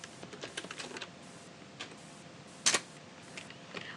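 Python code being typed on a computer keyboard: faint, close, irregular key clicks in short clusters, with one louder clack near the middle, in a quiet room.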